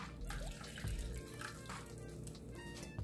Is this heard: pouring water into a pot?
yes